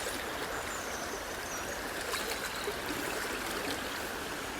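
River rapids on a winter grayling stream run as a steady, full rushing wash of water, constant and fairly close, with no voices.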